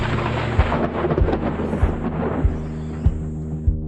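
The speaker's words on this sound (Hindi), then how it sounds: "तूफान की विशेषता ये है कि इसमें गड़गड़ाहट के साथ बिजली भी चमकती है।" Deep thunder rumbles through a thunderstorm with steady rain, loud and rolling continuously, with repeated low jolts and a fading tail.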